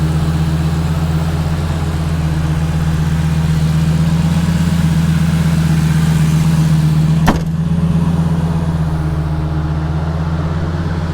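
A 2004 Lamborghini Gallardo idling smoothly, a deep steady hum with a low throb, close and even, broken only by one brief sharp click midway.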